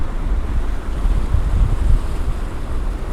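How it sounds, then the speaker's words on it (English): Ocean surf and a fast incoming tide on an Orkney shore, a steady loud rumbling wash of waves with gusting wind buffeting the microphone, no voices. "So the water's coming in already, it's coming in so fast."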